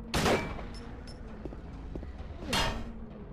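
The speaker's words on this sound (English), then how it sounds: "you're shooting him in his pyramid head" Gunshots fired at Pyramid Head in Silent Hill 2: two distinct sharp blasts about two seconds apart, each with a brief rattling tail, separated by quieter clanking and faint background noise.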